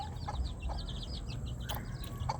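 Newly hatched chicks peep in quick, high chirping series, faint and close, with soft clucks from nearby fowl underneath.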